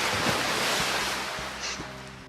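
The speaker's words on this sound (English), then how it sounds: "Looks for water sound effect." Ocean waves wash in a steady broadband roar with surf swells rising and falling, fairly loud and continuous with no voices.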